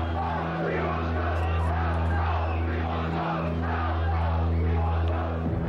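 Protesters in a park chanting an anti-draft slogan, a large crowd voicing a loud rhythmic chant in unison that repeats steadily, dense and continuous.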